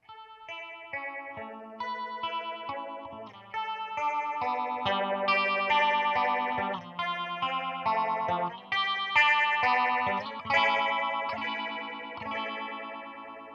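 Clean electric guitar runs through a Warm Audio Mutation Phasor II six-stage phaser pedal, playing chords and arpeggiated notes with a sweeping, swirling, vaguely Leslie-like tone. The playing stays steady and close, and there is no talk.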